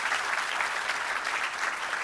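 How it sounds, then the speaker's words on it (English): A conference audience breaks into a dense, steady round of applause after a talk on global population aging, the clapping continuous and full throughout with no voices standing out. "Everyone, please, big round of applause for Eric and Andressa."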